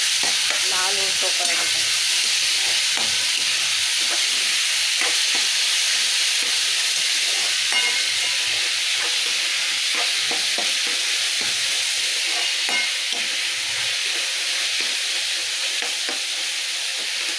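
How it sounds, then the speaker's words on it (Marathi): Onion and tomato sautéing in a pan with curry leaves for a dry cauliflower sabzi: a loud, constant hissing sizzle with repeated stirring scrapes throughout, no talking. "त्याच्यामध्ये थोडासा कांदा टॅमॅटो मस्त परतून घ्यायचं"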